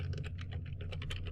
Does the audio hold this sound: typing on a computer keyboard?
yes